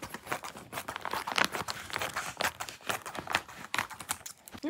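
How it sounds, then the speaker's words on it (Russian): A plastic packaging bag holding a vacuum-packed mattress pad crinkles and crackles close up in quick irregular bursts as it is handled, with no talking. "На матрасник, видите, идет в таком пакете со сдутым воздухом."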